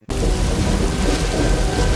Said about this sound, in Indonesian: cuaca tiba-tiba berubah menjadi hujan deras disertai petir